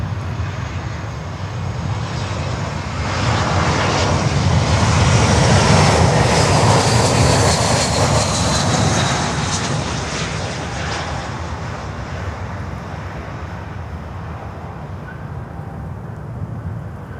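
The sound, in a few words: Volaris Airbus A321ceo jet aircraft at Miami airport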